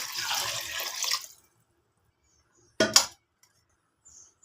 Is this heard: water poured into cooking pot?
yes